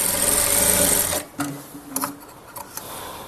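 A sewing machine stitches a blouse in a short, loud, steady whir that cuts off after about a second, followed by a few soft clicks and handling sounds.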